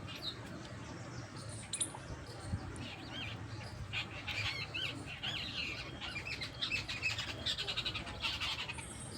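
Many birds, adults with their young, chirp and squawk together on a village rooftop, a busy overlapping chatter at moderate distance with a low background rumble.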